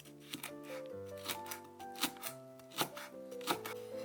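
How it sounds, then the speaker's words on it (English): A knife cuts through crushed lemongrass stems on a board, producing a few sharp, separate chopping strikes over steady background music. "Slice them finely."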